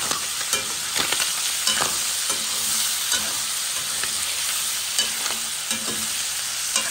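Ham frying beside browned onion in a pan for rougail jambon, a loud continuous close sizzle and crackle with occasional stirring scrapes and knocks, no talking.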